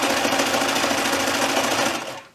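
A sewing machine runs steadily and loudly up close, zigzag stitching fleece for an ear warmer, a fast even whirring chatter that slows and stops at the end.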